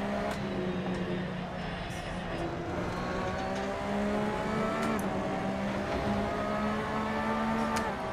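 GT race car engines roaring in Assetto Corsa at Spa-Francorchamps, a Porsche and a Corvette among the field, with sustained droning revs and shifting pitch from nearby cars throughout, under low background noise.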